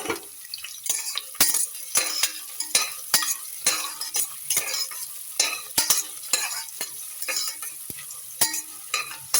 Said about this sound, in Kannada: ಇವಾಗ ನಾನು ಈರುಳ್ಳಿ ಹಾಕ್ತಾಯಿದ್ದೀನಿ